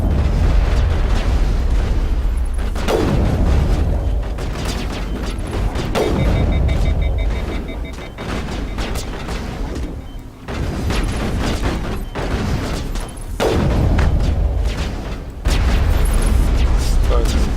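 Several loud booming blasts of grenade explosions in the shooter game Mass Effect, on Eden Prime, spaced a few seconds apart, with gunfire and game effects between them and someone talking.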